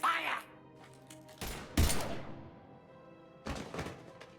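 Gunfire in the video game Mass Effect 3: a few sharp, loud shot bursts and heavy thuds separated by quieter gaps, with game voices and background ambience under them.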